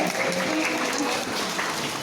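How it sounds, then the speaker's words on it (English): Audience applause at a safari park bird show, a steady wash of clapping from a crowd lasting about two seconds, fairly even in level with no speech over it. "Can he have a little round of applause and make straight on?"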